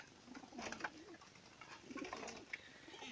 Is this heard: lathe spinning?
no